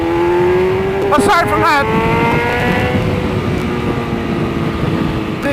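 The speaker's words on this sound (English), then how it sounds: "the exhaust sounds wicked." A 2020 BMW S1000RR sport motorcycle with an Akrapovic exhaust revs on a highway under construction, rising engine tones sweeping up and down over steady wind and road noise while a person talks.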